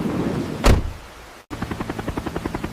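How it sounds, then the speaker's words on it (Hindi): A whoosh gives way to the rapid, even thudding of helicopter rotor blades, steady and fairly close. "सुनो, बाहर हेलीकॉप्टर की आवाज है।"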